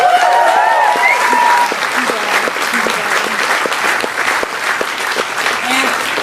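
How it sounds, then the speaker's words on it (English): A large audience claps steadily through the whole stretch, a dense and loud wash of applause with no letup, heard at a university alumni and faculty gathering; a faint spoken voice is briefly audible at the start. "So let's give them a big round of applause."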